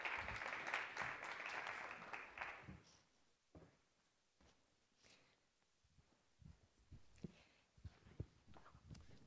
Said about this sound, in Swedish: Ja, stor applåd.